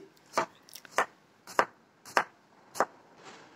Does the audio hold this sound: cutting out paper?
no